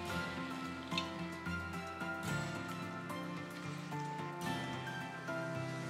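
Half a cup of water pours into mutton sizzling in a pot over a high flame, making a soft, steady splashing hiss with faint patters throughout, no voices.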